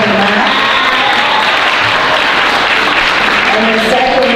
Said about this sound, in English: Let's clap our hands for every employee.